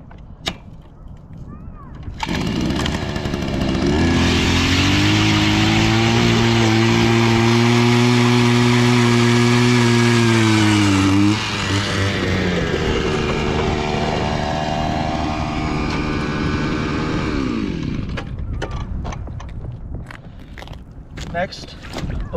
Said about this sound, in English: Alrighty, first let's get the hole drilled.